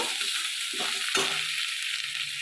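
A mix of ginger paste, turmeric, cumin, coriander and chilli powders sizzles as it is stir-fried in a pan, with a continuous bright hiss and a few spoon scrapes close by.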